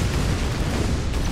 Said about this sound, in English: Those are some painful fireworks.